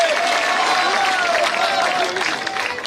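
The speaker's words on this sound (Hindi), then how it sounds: "जोरदार ताली बजाकर स्वागत करें" A crowd claps loudly and steadily at a political nomination rally in Ratangarh, a dense wash of applause with a voice speaking over it through amplification.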